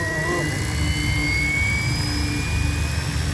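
RotorScale UH-1D Huey 470-size RC scale helicopter slowly spooling up, a steady whine rising gradually in pitch over a low motor drone, close and continuous without speech.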